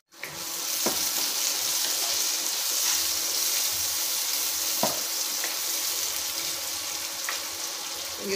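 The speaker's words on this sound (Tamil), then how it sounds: "வெங்காயம் நல்லா வதங்கட்டும்." Chopped onion sautéing in a hot pan for chicken gravy, a steady close sizzle and fry with a few scraping stirs of a spoon, no talking.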